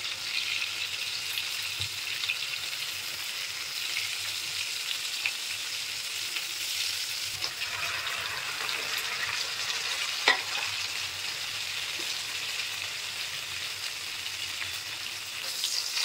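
Prawns frying in a pan of hot oil, giving a steady, even hiss and crackle throughout with a few small pops, close and continuous with no talk.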